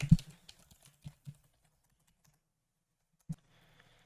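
Computer keyboard typing while entering a password on a crypto exchange, a few quiet isolated key clicks and a short burst at the start, then near silence with one more click later.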